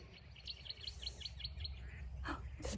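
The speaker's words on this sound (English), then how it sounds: "I think it's a superb fairy wren in the grass there." A superb fairy wren gives a run of quick, high, thin chirps in the grass beside a rural rail trail, fairly faint and outdoors, with a soft background hum.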